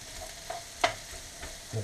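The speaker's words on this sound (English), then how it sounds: "Just give them a good stir so nothing's burning." Bulgogi stirred in a hot pan, a few quick scraping strokes with soft intermittent sizzling, close and quiet with no voices.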